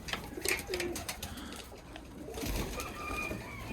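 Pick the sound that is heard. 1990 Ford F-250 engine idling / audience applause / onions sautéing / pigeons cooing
pigeons cooing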